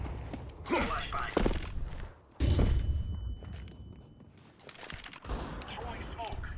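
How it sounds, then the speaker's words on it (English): Flashbang grenade going off in Counter-Strike 2 matchmaking, a sudden loud burst followed by a high ringing tone amid game gunfire and noise, with a voice speaking briefly. "Flashbang."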